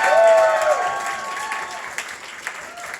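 Audience applause at a Long Beach campaign event for a 2026 California election, welcoming a lead volunteer; loud clapping swells at the start, then thins into a softer patter with a few scattered sharper claps toward the end.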